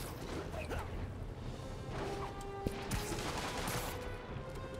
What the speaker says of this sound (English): these NPC thugs are spamming gunshots at me.